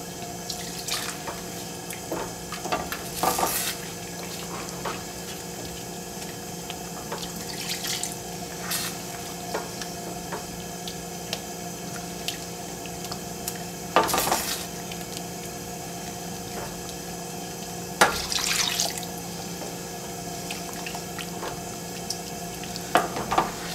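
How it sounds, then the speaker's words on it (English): Sauce being stirred continuously in a pot as chicken stock is worked in for an old-fashioned chicken stew: a steady watery swishing and bubbling with scattered clinks and scrapes, close and alone throughout. "constant stirring will eradicate any lumps and keep the sauce smooth"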